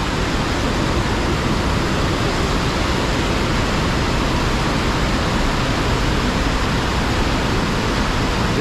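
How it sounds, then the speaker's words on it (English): River water pours over a weir in New Hampshire, a dense, unbroken roar of rushing flow, loud and steady with no voices. "It's the flow of the whole river."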